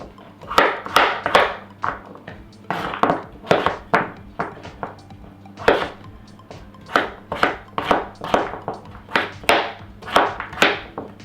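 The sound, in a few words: knife chopping squash into small cubes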